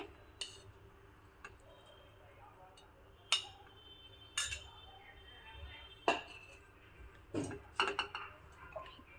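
Hot cooked rice goes into a pan of fried mixture for a South Indian rice dish, with sparse, quiet metallic clinks and taps of a spoon against the pan, separated by near-silence.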